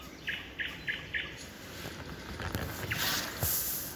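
Faint bird chirps repeat in a quick series of short high notes over soft outdoor background noise, followed by a few scattered clicks and rustles.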